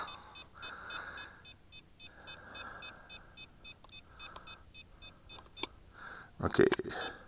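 Phone relinking with a Yu Xiang 668 Q8 quadcopter, giving a steady train of quick, regular electronic beeps under low background noise, ending with a louder clatter of handling sounds.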